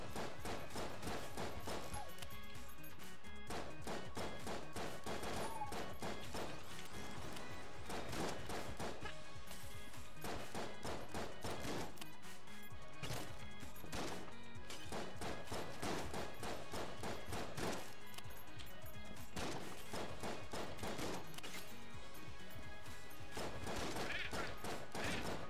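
Steady, dense gunfire from Enter the Gungeon pops in rapid repeated volleys throughout, evenly loud and layered with game effects, with no talk over it.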